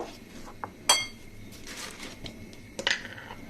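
Utensil scraping and clinking in a bowl while besan batter for milky boondi pitha is mixed, a few sharp clinks amid soft steady stirring, close and fairly quiet with no talk.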